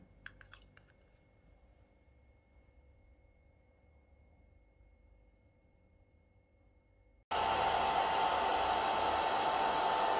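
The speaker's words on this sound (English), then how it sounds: "It's kind of drawing with the hair dryer and some ink." Hair dryer switching on abruptly after a quiet stretch of faint clinks, then a loud, steady close-up rushing blow while it pushes ink across paper for an expressionistic portrait.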